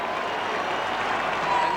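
Football crowd at the 1991 SANFL preliminary final between South Adelaide and West Adelaide roars and applauds after a lucky goal, a dense, sustained wash of cheering and clapping at steady loudness throughout.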